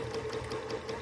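A sewing machine stitches during free motion quilting of a quilt, a rapid rhythmic mechanical whirring at close range, steady and alone.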